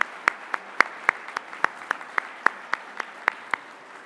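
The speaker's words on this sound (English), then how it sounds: "let's once again give these amazing innovation honorees a round of applause" Applause for innovation award honorees at an awards ceremony, heard as about fifteen crisp, evenly spaced claps over four seconds.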